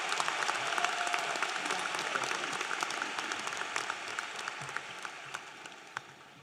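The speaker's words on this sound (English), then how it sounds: "Please join me in a round of applause for our valedictorian," Audience at a Denmark High School graduation ceremony applauds the valedictorian, a dense wash of many hands clapping that holds steady and slowly tapers over several seconds, with no talking.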